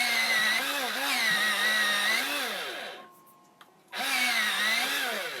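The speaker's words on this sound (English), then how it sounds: "so you're going to hear my sharpener." A pencil sharpener grinding a Faber-Castell dark red colored pencil, loud and close, with a steady whirring buzz that wavers in pitch. It stops briefly, then starts again.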